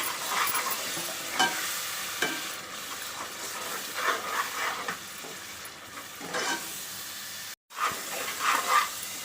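Prawn biryani masala paste sautéing in a pan, steady close sizzling and hissing broken by repeated scraping stirs, with a brief dropout near the end.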